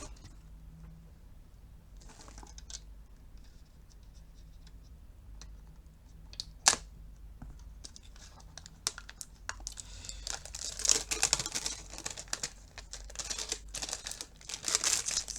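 Packaging is opened with crinkling and crackling of wrap, including one sharp tearing snap near the middle, building into dense close rustling toward the end; a collector's Strictly Limited video game release comes out of the package, with no talk.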